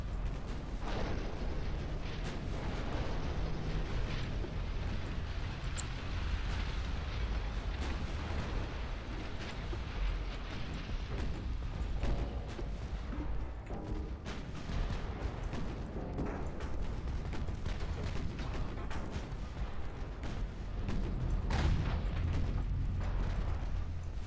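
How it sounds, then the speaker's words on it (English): Naval gunfire in Ultimate Admiral Dreadnoughts, a steady wall of distant booming and rumbling from many guns firing at once. It keeps up without a break, dense and continuous, with no talking. "Let's just have everything shoot at it in the local area."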